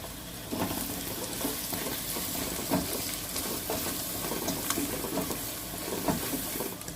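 Onion paste sizzles in a pan for a spicy chilli chicken curry, giving a constant bright crackling hiss with occasional stirring scrapes close by and no talk.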